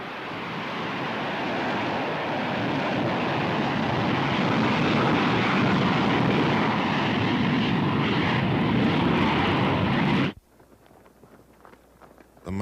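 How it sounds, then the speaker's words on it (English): B-52 bombers fly overhead in a deep, loud, continuous engine roar that swells gradually and holds for about ten seconds, then cuts off abruptly into near quiet. "On December 26th, the B-52s resumed their missions."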